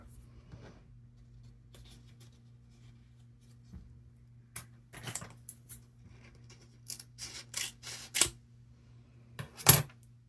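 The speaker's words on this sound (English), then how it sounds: "I'm just going to cut out all of the registration marks, being careful not to mark the tattoo paper underneath." Scissors snipping around the registration marks on a sheet of printed temporary tattoo paper, a run of short, close, crisp cuts that pick up and grow louder toward the end, with a steady low hum beneath and no talking.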